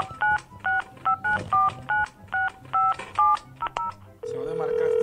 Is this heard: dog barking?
no